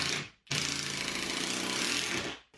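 Power drill driving a screw into a workshop wall while mounting a French cleat storage system, giving a brief blip and then a loud, steady buzzing whine for about two seconds up close.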